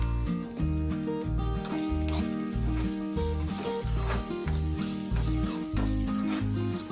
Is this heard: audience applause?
no